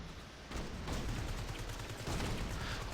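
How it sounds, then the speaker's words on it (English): Black Widow's Shield Assault ultimate airstrike in a video game unleashes dense, continuous gunfire and rumbling blasts that swell louder after a moment and roar steadily without a break. "Shield Assault. Roger that, Agent Romanoff. Airstrike commencing."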